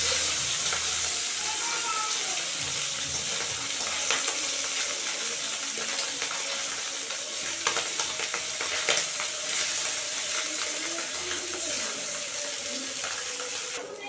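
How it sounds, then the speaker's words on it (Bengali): Tengra and gutli fish frying lightly in a pan, a steady dense crackling sizzle that runs throughout, with intermittent utensil scrapes and faint talk in the background. "মাছগুলি ভাজা হয়ে গেছে আমি হালকা করে বেজে নিয়েছি"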